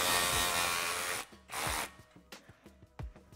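Hand tool snugging an exhaust clamp on an SN95 Mustang cat-back exhaust install: a long grinding, rasping burst, a second shorter one, then several quick clicks and taps, close and fairly loud.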